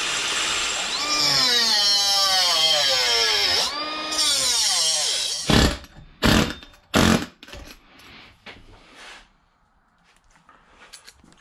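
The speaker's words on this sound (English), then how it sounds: "Want to drill this all the way down." A power drill bores a hole all the way down through a metal part, whining loudly with rising and falling pitch for several seconds, then a few short bursts before stopping.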